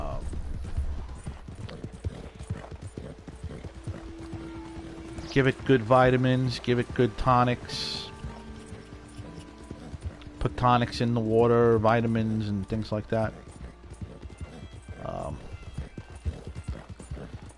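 Hooves of a ridden horse in Red Dead Redemption 2 clip-clop in a steady rhythm beneath someone talking throughout, with tonal music-like swells rising in two stretches.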